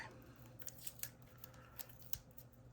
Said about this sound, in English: I'm just going to use my little nippers to cut this tape real quick